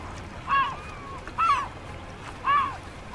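Three short nasal calls at regular intervals, like ducks quacking, over a faint steady background hum.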